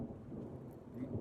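Low rumbling thunder rolls during a thunderstorm with rain, a faint, continuous murmur at a distance, short and steady.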